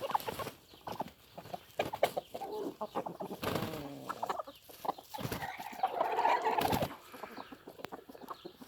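Hens and roosters in a backyard coop cluck and murmur in scattered bursts, close by, with a busy flock chattering overlapping throughout.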